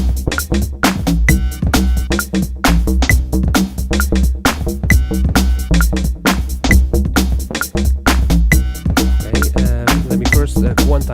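A Roland V-Synth plays a sound taken from a Roland MV-8800, in a dense beat of sharp percussive hits over a steady low bass layer, loud and continuous with no talking.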